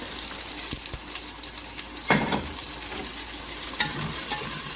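Two onions fry in a pan with a steady, close hiss of oil and a loud clattering stir partway through, a few lighter clinks scattered around it, no voices.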